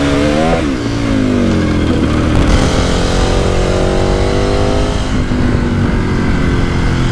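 A motorcycle rides on the road in Sardinia near Castelsardo, its engine droning loud and close throughout, with rising and falling pitch as it accelerates and shifts gears, plus steady wind rush.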